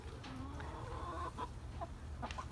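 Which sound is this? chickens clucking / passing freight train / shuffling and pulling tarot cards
chickens clucking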